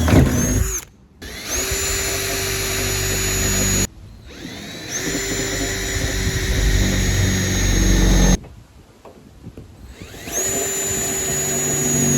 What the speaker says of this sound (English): I'm just going to drill some pilot holes in the corners